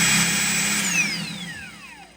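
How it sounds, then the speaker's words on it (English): A cordless power drill whirs at high speed while drilling during a coilover install on a 1968 Ford Mustang, then its motor winds down, the whine sliding steadily lower in pitch until it fades out. "We get to drill"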